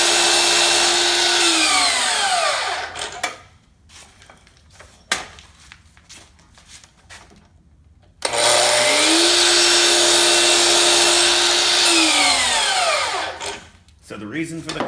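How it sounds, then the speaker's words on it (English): Two scrap pieces of wood trim are cut for a miter with a power miter saw in two loud, close passes. Each cut has a rising whine, steady cutting and a spin-down, with a quieter handling gap between them. "I'll just cut two scrap pieces here so we can see here."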